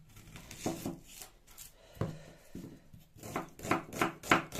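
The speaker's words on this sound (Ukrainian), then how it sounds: "Ріжу дрібненько цибулю." A knife finely chopping onion on a board, uneven bursts of quick close cuts separated by short pauses, growing busier toward the end.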